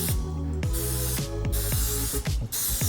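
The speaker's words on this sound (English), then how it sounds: "So we're just gonna spray some cooking oil in them so it doesn't stick." Cooking oil spray misted into ramekins, three or four loud, close hissing bursts in steady rhythm, each about half a second long and separated by brief pauses.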